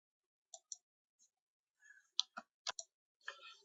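A computer mouse clicks a handful of times while someone sets up a chart in a spreadsheet; the clicks are sharp, faint and sparse, spaced irregularly with quiet gaps between them, and no one speaks.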